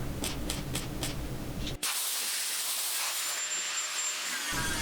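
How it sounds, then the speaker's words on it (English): An air blower hisses steadily over a fresh weld on the fender stand of a 1970 Triumph TR6, after a short burst of rougher noise and a brief cutoff, and then runs on as a close, even stream of air. "I was using the air blower to keep it cooled down"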